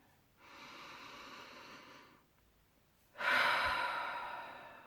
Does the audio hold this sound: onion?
no